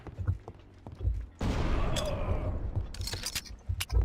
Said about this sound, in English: I'm gonna throw some grenades.